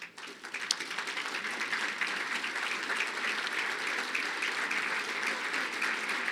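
A crowd at a breakfast event applauds steadily, dense clapping swelling quickly after a brief pause and holding at an even level.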